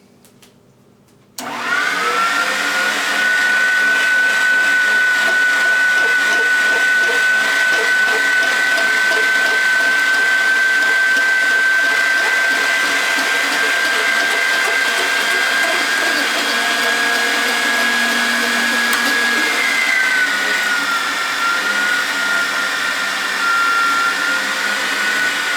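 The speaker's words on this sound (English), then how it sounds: "Let's grind some hamburger." A KitchenAid mixer with a grinder attachment grinds cubed beef for hamburger, a loud steady motor whine with a sustained high tone that starts abruptly and runs continuously before shifting slightly near the end.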